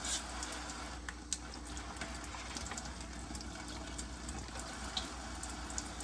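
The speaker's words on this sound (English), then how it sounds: "I'm gonna just rinse them off." Water runs steadily from a tap as items are rinsed for decontamination in a university training setting, a continuous hiss with a few faint knocks of objects, close and alone without talk.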